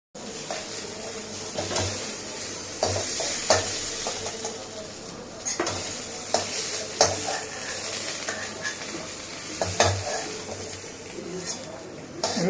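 Stuffing for stuffed kakrol frying in a pan while being stirred, a steady sizzle broken by repeated scraping clatters of the spoon against the pan throughout.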